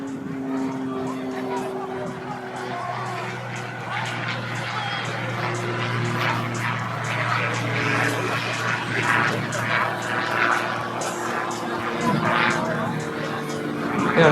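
Pitts aerobatic propeller planes manoeuvring at an air show, a steady droning engine hum with shifting pitch carrying through, heard under continuous crowd noise and a commentator's voice.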